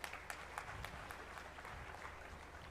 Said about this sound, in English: Let us cheer the students with a big hand of applause.